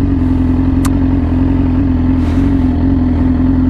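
A Yamaha R6 sport motorcycle fitted with an insanely loud exhaust runs with a steady, heavy, droning engine note, close and loud, holding an even pitch throughout with one brief sharp click.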